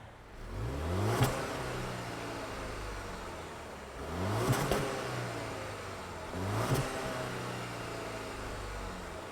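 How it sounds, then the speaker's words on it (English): A 2024 Jaguar XF P300 R-Dynamic's four-cylinder engine, heard up close with no talk, settling into a steady low hum between three sharp revs that rise and fall at regular intervals. "let's fire up this 4-banger and hear what it sounds like"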